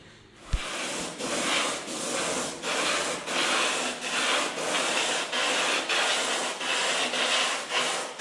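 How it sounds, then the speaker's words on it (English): Sandpaper rubs steadily over John Deere 6520 tractor mudguards in even back-and-forth strokes, about one stroke per half second, a close, loud scratchy rasp after a single knock at the start. "So we'll sand that down first and then throw a bit of paint on it."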